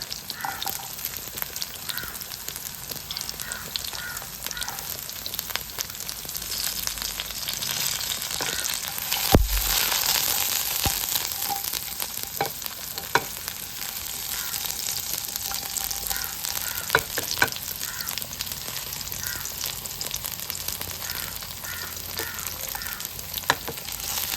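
Ginger and garlic fry in hot oil for a chicken kulambu, sending up a long, even sizzle with scattered crackles and pops, plus an occasional stirring scrape and one sharp knock partway through.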